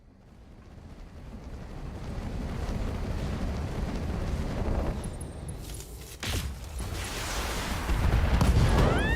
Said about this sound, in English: They got a lucky ammo explosion